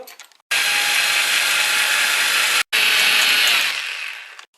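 A power drill with a 4–5 mm bit bores the lower hole in an old rear shock absorber from a VW Passat, a loud, steady whine in two long bursts split by a brief pause, tapering off at the end.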